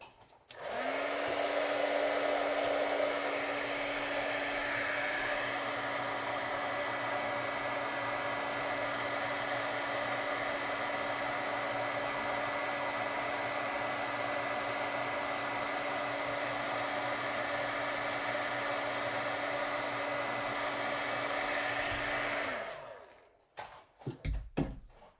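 Craft heat tool melting embossing powder on a card, a steady whirring fan blast with a high whine that starts abruptly, holds evenly for about twenty seconds, then cuts off, followed by a few soft handling knocks.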